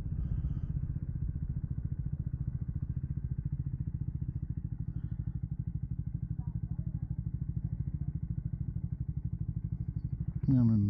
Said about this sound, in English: Let's get one more sound check of this beautiful little single.